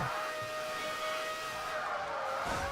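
An old open-wheel race car in the video game Burnout 3 Takedown, its engine droning steadily with a faint tonal whine and tire noise, fairly quiet and continuous with no talk.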